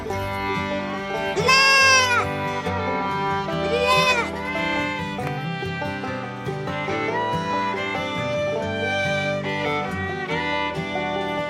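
Goats at a farm campsite bleat several times, loud and near, over a steady bed of background music.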